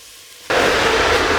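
Cut spinach (palak) hits a hot pan and sizzles loudly, with sudden broadband hissing that starts halfway in after near silence and then holds steady.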